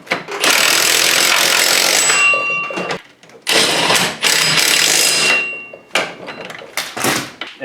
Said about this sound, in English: Now I'll tighten it up a bit with my impact.